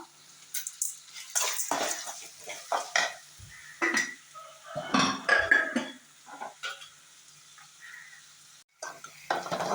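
Pounded ingredients sautéed with salt in a pan for drumstick thokku give a loud, crackling sizzle with repeated scraping stirs of a spoon against the metal, close up and busy throughout.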